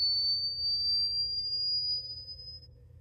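Steady low bass test tone driving an RCA speaker cabinet so its back panel resonates, a quiet continuous hum alongside a thin high whine that fades out near the end.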